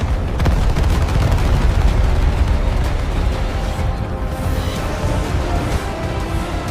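Dense, continuous rumbling booms of heavy tank cannon fire and explosions, loud and unbroken throughout.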